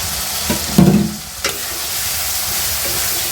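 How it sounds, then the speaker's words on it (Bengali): Raw prawns tossed into a spiced masala that has already been fried down, giving a couple of brief stirring clatters and a short burst of sizzle near the start before settling into a steady low hiss. "মাছগুলো কিছুক্ষণ আমি কষিয়ে নেব"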